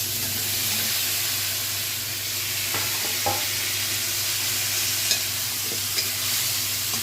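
Chopped cauliflower frying with ginger and garlic in a pan over high heat, a steady hissing sizzle throughout with a few soft scraping stirs and light clinks of the spoon.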